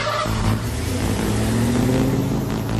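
A car pulls away on a street, a loud engine hum and rumble close by that holds steady and swells slightly as it drives off, with no speech.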